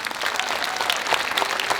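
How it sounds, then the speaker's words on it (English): A concert audience at a school's 40th anniversary evening claps steadily, a dense, close round of applause holding even for the full stretch. "yes, a big round of applause."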